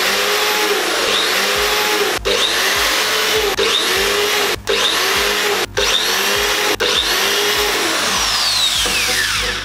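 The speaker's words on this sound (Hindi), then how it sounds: "तो चलिए करते हैं ड्रिल।" Electric drill machine boring mounting holes for a solar-powered 4G CCTV camera on farmland: a loud, close whine that runs in several long bursts, broken by brief pauses as the drill restarts.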